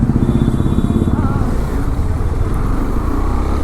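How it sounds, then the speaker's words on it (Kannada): KTM 390 Duke motorcycle droning steadily on the road, a loud continuous single-cylinder engine hum throughout, with a rider's voice heard over it. "ನೋಡಿ ಅಲ್ಲೇ ಹೋಗ್ತಿದೆ ನನ್ನ ಗಾಡಿ. ಇದು 390 ಡ್ಯೂಕ್."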